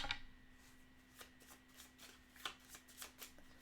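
Quiet riffling and soft flicks of playing cards being shuffled by hand during a Pathfinder Adventure Card Game session, a series of brief papery bursts, close and faint.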